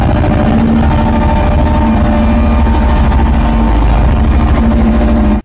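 A toy road roller gives off a loud, steady, buzzing engine drone that holds one level throughout, then cuts off abruptly at the end.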